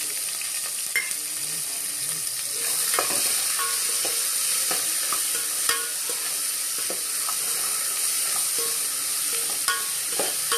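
Sliced onions and green chillies sizzle steadily in hot oil in a pan while a spoon scrapes and stirs with occasional clicks and taps, close and continuous, with no talking.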